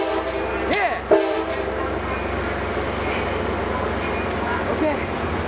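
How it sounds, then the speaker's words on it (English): An Amtrak passenger train passes at Fullerton with a steady rumble of wheels on rails, a brief horn and wheel squeal early on, and excited voices over the passing train. "Here goes Amtrak 74."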